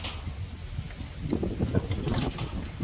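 Strong wind gusting outdoors in rural Thailand, rushing and buffeting across the microphone in uneven surges that build louder toward the end, with no talking.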